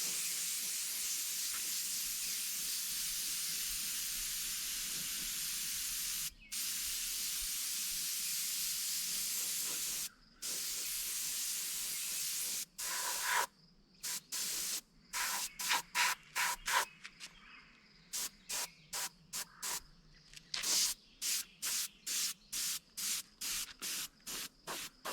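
An airbrush sprays a black-brown paint mix onto a purchased northern pike fish replica, first as long continuous hisses, then as a string of short rapid bursts, close and soft with no talking.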